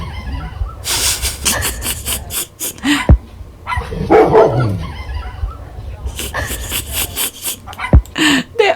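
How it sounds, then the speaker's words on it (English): A mother dog and her puppies bark and yip in short bursts, heard through playback of a recording, with scattered sharp yaps between gaps and a person talking at moments. "This is I guess the mom, the dog, and the puppies."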